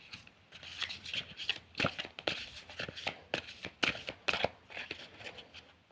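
Close, hand-shuffled deck of oracle cards, crisp irregular slaps and swishes of card stock repeating over several seconds in a quiet room, no voices.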